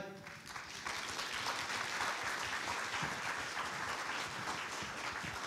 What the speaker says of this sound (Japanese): どうぞ大きな拍手でお迎えください